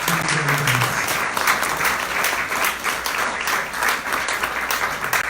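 Audience applause at a democracy town hall with Bill Weld, a dense, steady wash of many hands clapping throughout, fairly loud and continuous, with a brief voice at the start.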